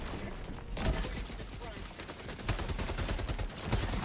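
Rapid gunfire from a turret emplacement in Helldivers 2, firing in dense repeated bursts over constant loud battle noise, with occasional players' voices mixed in.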